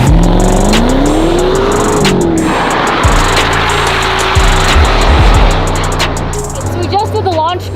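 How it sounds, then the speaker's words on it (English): A 2021 Maserati with a twin turbo V8 launches hard under launch control, engine revving loud and rising in pitch as it accelerates away, with steady engine roar continuing while people talk over it. "I really want to hear this twin turbo V8"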